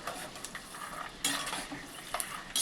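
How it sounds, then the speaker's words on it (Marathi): Peanuts fry on low gas and are stirred in a pan: a soft steady sizzle with close scraping and light metallic clinks of the spoon throughout. "शेंगदाणे एकदम असे बारीक गॅसवर तळून घ्यायचे, चांगले तळले पाहिजेत शेंगदाणे."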